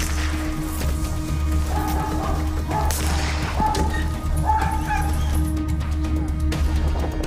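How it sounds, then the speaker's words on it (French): Air force military dogs bark repeatedly over steady loud background rumble, with sharp yips and thuds at irregular intervals. "Au niveau de l'armée de l'air, on a plusieurs types de chiens."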